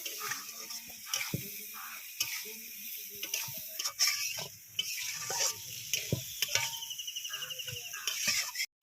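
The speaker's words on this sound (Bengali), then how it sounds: "এবার মশলাটাকে ভালো করে কষিয়ে নেব।" Spice masala with tomato and salt being fried and stirred in a pan for a village-style black rooster curry, with a scraping, ratcheting spatula rhythm over a steady sizzle, close and moderately loud.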